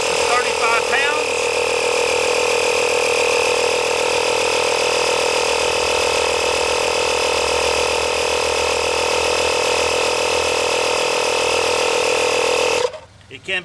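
A portable air compressor for a 2013 Chevrolet Malibu pumps with a loud, steady mechanical drone that continues for most of the stretch before cutting off abruptly near the end.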